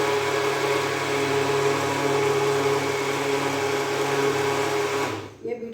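A blender jug whirs steadily at high speed mixing cake batter, a loud continuous motor drone with a tonal whine that runs for about five seconds, then cuts off abruptly.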